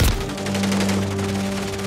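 Gunfire in a shooter video game: a sharp opening shot followed by a dense, rapid burst of fire that carries on over a steady background hum.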